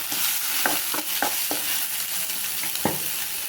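Steady sizzling of onions frying in a hot pan with a few sharp clinks and scrapes of a spoon stirring, continuous and close, with no talking.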